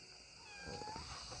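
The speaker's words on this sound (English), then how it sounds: "Oh, hi, kitty." A house cat lets out one faint, drawn-out meow in a quiet garage with a Studebaker car nearby, set against a steady background hiss.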